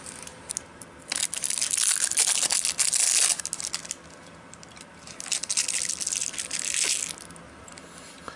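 Close, loud crunching of a hard boiled sweet from a Latvian field ration, with bursts of brittle cracking and grinding in two main spells, no talking over it.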